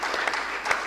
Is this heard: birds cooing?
no